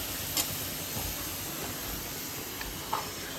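Kheema mixture frying in a pan for kheema unde, a steady soft sizzling hiss with a few faint crackles, close by.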